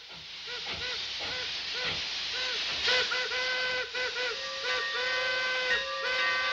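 A train whistle sounds in a series of short and longer blasts over a steady hiss of steam, fairly close and loud.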